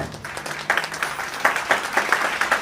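Audience applause at a ceremony, quiet at first then swelling into a steady run of crowd clapping with sharp overlapping hand claps, no talk over it.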